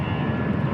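A Thai Vietjet airliner at Bangkok's Suvarnabhumi Airport gives a brief, steady engine roar, close and fairly loud, with a dense rumbling tone.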